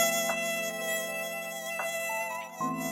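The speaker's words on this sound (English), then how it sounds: "Mosquito Buzzing from Sound Ideas Series 1000 General Sound Effects Library, just pitch shifted" Pitch-shifted mosquito buzzing from a stock sound effects library, a steady close whine with layered harmonics that holds for the whole stretch, with small swells in pitch and loudness.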